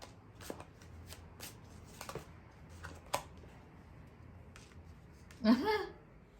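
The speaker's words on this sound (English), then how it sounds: "Let's get some tarot cards here." Tarot deck being shuffled, a series of soft, quick papery riffles and taps spread through the clip, with a louder burst of shuffling near the end, close and fairly quiet.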